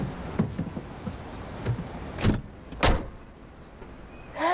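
A car door slammed shut gives a couple of heavy, close thuds in quick succession over low background noise. Fainter knocks and rustles of movement come before them.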